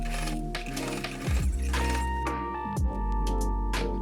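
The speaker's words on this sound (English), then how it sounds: "sew the overlap placket a few times to strengthen the stitch" A sewing machine top stitches a fabric placket for a shirt dress, a steady close mechanical whirr of the needle running with brief pauses and restarts.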